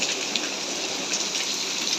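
Steady rain falls continuously with a dense, even patter on surfaces, moderately distant, and no voices.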